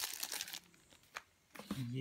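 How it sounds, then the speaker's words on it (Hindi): Packaging for a Reliance JioFi 2 wifi hotspot being unboxed, with quiet crinkling and rustling bursts close by, followed by a speaking voice at the end. "तो चलिए अब इसको हम अनबॉक्स करते हैं और देखते हैं डिवाइस किस तरह का है"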